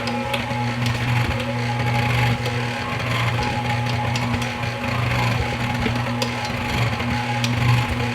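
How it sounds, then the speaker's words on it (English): A stand mixer kneading dough for Amish white bread runs with a steady, fairly loud motor hum and a dense, grinding rumble throughout. "A lot easier with the stand mixer than doing this by hand."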